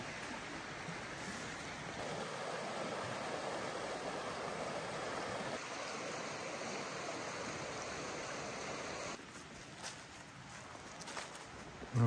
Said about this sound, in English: Got a few rapids in this little creek too.